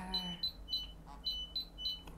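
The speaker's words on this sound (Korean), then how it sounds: "스마트폰에서도 알람이 발생하고 있고 진동도 함께 발생하고 있습니다" A smartphone gas-detector alarm emits six short, sharp electronic beeps in a steady rhythm, close and clear, with a faint low vibration hum underneath.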